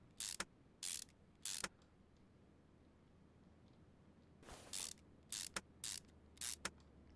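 Parts being tightened with a ratchet or impact tool on a car in the Car Mechanic Simulator 2021 game, after fitting a new pump and ABS module; short bursts in two clusters, three then five, with quiet gaps between.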